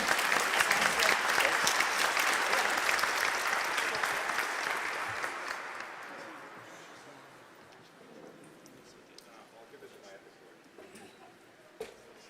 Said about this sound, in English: let's have a round of applause for Scott Pace